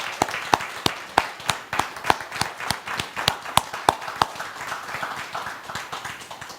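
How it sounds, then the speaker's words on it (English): Audience applause following a keynote address at a church gathering: sharp, separate claps from a small group, fairly close and steady, thinning slightly toward the end. "Let's give Joy another round of applause."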